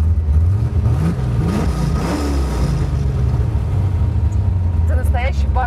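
Chevrolet Camaro V8 engine revving under throttle, a loud low rumble rising and falling steadily throughout, with someone talking over it.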